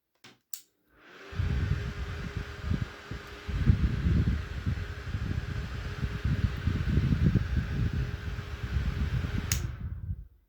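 A Touch Me mini desk fan runs with a soft, steady whir and faint rustling turbulence for about eight seconds, framed by brief clicks at the start and end, with no talking.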